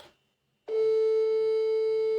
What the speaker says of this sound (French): Ton téléphone est déjà occupé.